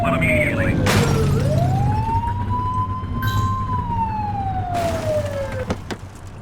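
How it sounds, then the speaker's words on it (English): In-game police car siren from The Precinct blips into a sweeping wail, rising then falling in a long glide over steady engine and road noise, loud and close, with brief bursts of chatter partway through. "Get on their tail and blip the siren."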